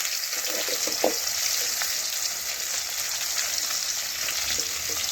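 Continuous hissing sizzle of food frying in hot oil, steady and close, with a few faint clinks near the start.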